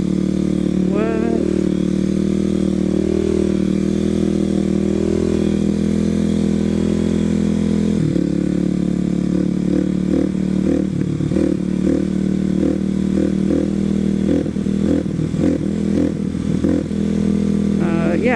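A motorcycle engine drones steadily throughout, close and loud, with revving and rattling while people talk over it.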